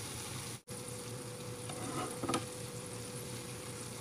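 Snacks made from a simple dough fry in hot oil with a steady, soft sizzling hiss throughout, a brief dropout near the start and a few faint crackles and bubbling pops, with no voices.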